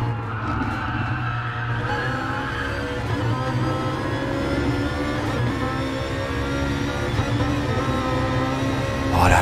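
A Gran Turismo Sport race car in an online race at the Nürburgring GP circuit, its engine droning steadily and loudly throughout, with the pitch shifting slightly as the throttle eases, alongside faint tyre noise.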